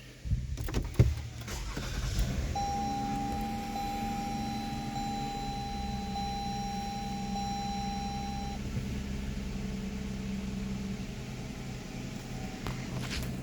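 A 2014 Lexus ES350 starts with the push button, a brief click and whir giving way to a soft, steady engine idle, with a sustained electronic chime tone over the first half.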